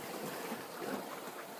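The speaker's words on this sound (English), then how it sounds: "But these waves are sort of getting, in fact, here comes a little bit of a bigger one." Sea waves break on a rocky shoreline, a continuous, loud, broadband roar of surf mixed with wind buffeting the microphone, with no voices over it.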